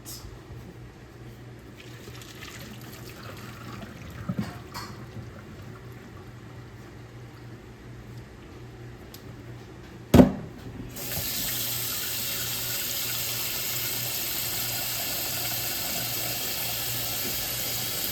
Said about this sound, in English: Now I'm going to throw off this water and I'm going to put some cold water on it.